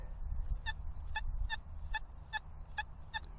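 A metal detector tuned to a 17 kHz operating frequency gives a steady series of about eight short, evenly spaced electronic pulse tones over a low background rumble, with no talking.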